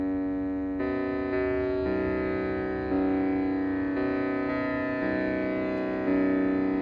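A Saarang Deluxe shruti box holds a steady reedy drone. The pitch shifts as the notes change over about seven seconds, and it plays alone at moderate loudness.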